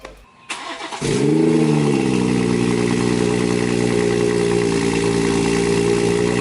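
A BMW 440i xDrive with a B58 engine and a catless downpipe cranks briefly, then fires up into a loud, steady, rumbling idle right up close, with no voices.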